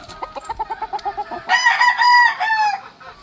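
A stag, a young rooster, gives a quick run of sharp, evenly spaced clucks, then a longer, louder crow-like call, close by with no talk over it.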